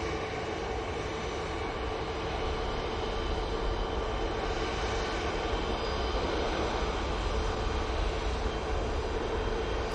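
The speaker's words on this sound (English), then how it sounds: "That is from Cancun, using the 787-9 Dreamliner." A Boeing 787-9 Dreamliner arriving from Cancun, a broad steady engine roar at moderate distance that holds evenly with no voices over it.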